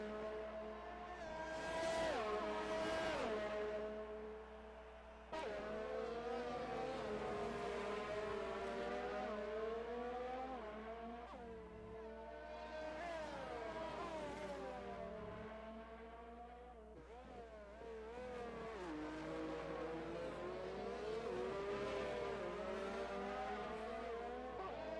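Race cars circle the Bahrain circuit in an Xbox racing game, engines whining and rising in pitch as they pass, several loud sweeping passes layered over a steady drone with no talk.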